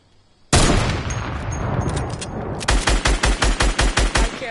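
Rapid game gunfire from an AR rifle, beginning with a loud sustained burst and then settling into a steady run of about ten evenly spaced, punchy shots, close and loud with no talk.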